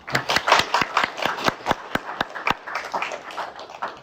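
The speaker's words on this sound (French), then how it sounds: "Un petit applaudissement." A small audience at a retrogaming talk about the ColecoVision gives a short round of clapping, with individual sharp claps standing out in an uneven rhythm, close and moderately loud, without talk.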